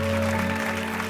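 A live comedy show audience claps in a dense, continuous wash, loud and close, with a steady hum beneath, lasting just over a second.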